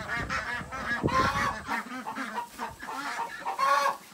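Ducks in a backyard duck pen, a former laying-hen coop with roosts, honk and quack in repeated overlapping bursts, fairly loud and close, with no talk over them.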